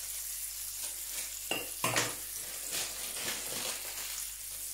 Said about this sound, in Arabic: رانا هاك تشوف السجق صايدير هاك يطيب ويجي صحي ويجي علامه